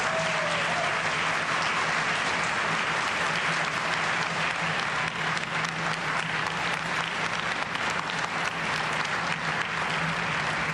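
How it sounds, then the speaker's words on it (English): A crowd cheers and applauds at the 2015 swearing-in of Justin Trudeau's cabinet as a new defence minister is named. Dense, steady clapping fills the whole stretch with no break. "You're getting big roars from the crowd"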